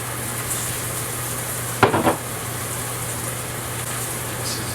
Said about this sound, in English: My plan is to just keep it on the stove top and stir in the sauce and let it heat up that way.